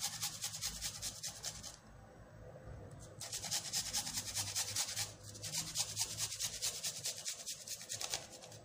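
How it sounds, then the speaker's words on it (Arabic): Garlic cloves rubbed across a grater in a home kitchen, a steady rasping scrape in close bursts with two short pauses, no talking. "وغادي نحك واحد جوج دريسات ديال الثومه."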